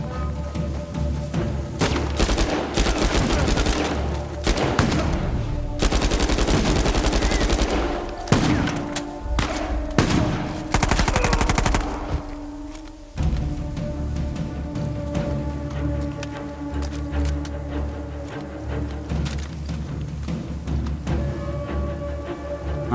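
Machine gun fire in the action game Uncharted 4, with loud sustained automatic bursts and rattling shots mixed with explosions and battle noise that shift in intensity over about twenty seconds.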